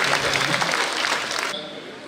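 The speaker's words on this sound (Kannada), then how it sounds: "ದಯವಿಟ್ಟು ಒಂದು ದೊಡ್ಡ ಚಪ್ಪಾಳೆ ಅವರಿಗೆ ಬೀಳ್ಕೊಡುಗೆ ಮಾಡಬೇಕು" Audience applauding as a farewell at the inauguration of a Veerashaiva-Lingayat federation, a short burst of dense clapping that cuts off abruptly partway through and leaves quieter room noise.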